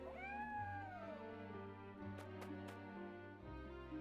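A cat meows in the Triangle Strategy video game, one drawn-out, wavering meow over a steady background music drone with a few faint clicks, with no talking.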